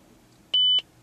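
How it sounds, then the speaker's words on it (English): A single short electronic confirmation beep from the radio preset button in a 2013 Lexus ES300h hybrid sedan, one clean steady tone lasting about a quarter second, close and clear over faint cabin quiet. "And you'll hear the beep for the confirm."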